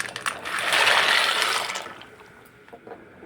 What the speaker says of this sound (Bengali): এই পাস্তাগুলো আমি ঢেলে দেব গরম জলের মধ্যে